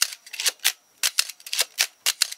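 Nikon F2 film camera shutter firing repeatedly, heard as a quick series of sharp, close mechanical clacks in uneven pairs and singles with short quiet gaps between them.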